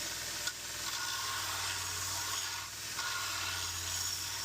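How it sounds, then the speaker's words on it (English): A Scotch-Brite wheel grinds steadily against a hook tip machete blade during restoration, a continuous loud abrasive hiss and rub with a low motor drone beneath, briefly dipping in intensity as the blade shifts, with no talking. "then the Scotch-Brite wheel and so forth, we'll take and clean that up too"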